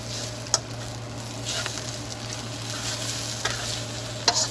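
Eggs stirred in a skillet for breakfast, a soft steady fry under faint scrapes with a few sharp utensil clicks, close and alone.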